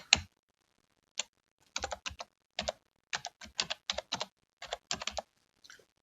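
A password being typed on a computer keyboard, with sparse clicky keystrokes coming in small irregular clusters, close and fairly quiet, with pauses between groups.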